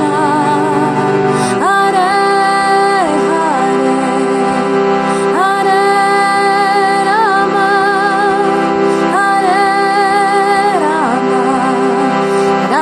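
Harmonium plays the Harinama Mahamantra tune as sustained reed chords, switching between two chords in a steady repeating pattern, loud and close with no voices.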